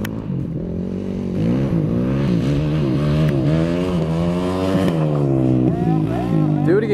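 A Predator quad ATV engine revs in a rising and falling drone, steady and fairly loud and close, with people talking over it throughout.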